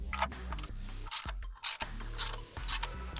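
A ratchet tightens valve cover bolts to torque on a 2018 Ford Escape 2.5L engine, producing quick clicking pawl sounds in short repeated strokes, close and clear with brief pauses.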